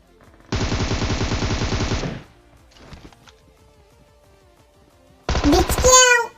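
Video game automatic gunfire rattles in two loud rapid bursts, one near the start and one at the end, separated by a quiet stretch with faint distant shots.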